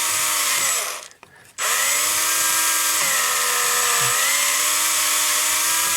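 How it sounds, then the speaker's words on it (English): Power drill with a bit smaller than the holes, cleaning corrosion out of a Ford blind-spot warning connector: a steady high whine that dips briefly to near silence, then spins back up and runs on, close and loud. "So I picked the drill bit smaller than the size of the holes here."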